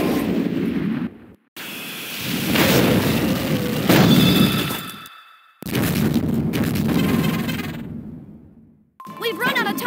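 A super finishing attack lands in the Beetle King arcade game, a fighting game between giant beetles, with heavy booming impacts and explosive bursts in several loud waves, broken by brief gaps, ending in sharp electronic effects.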